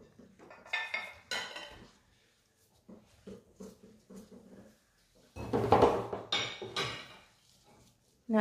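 Dishes and plates clink and clatter as a plate is taken from among them in a home kitchen while cooking Sicilian eggplant caponata, in intermittent bursts with quiet gaps and a louder cluster near the end.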